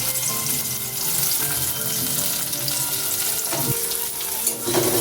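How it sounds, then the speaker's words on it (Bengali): Grated ginger tossed into fried chopped tomato in a hot pan, a continuous loud sizzle with stirring scrapes and small bursts, close and without talk. "টমেটোটা ভাজা হয়ে গেলে দিয়ে দিচ্ছি গ্রেটেড আদা"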